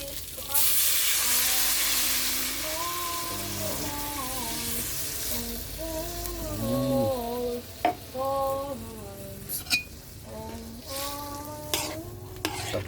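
First coconut milk goes into a pan of simmering dried fish, bringing a steady sizzle and hiss with stirring scrapes and a few sharp clinks of a utensil against the pan, close up; a voice speaks over it.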